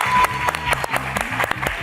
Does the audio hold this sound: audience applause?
yes